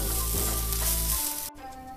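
Rice tumbled and stirred into coriander masala frying in a pan, a steady close sizzle with scraping strokes that cuts off abruptly near the end, leaving a quieter simmer.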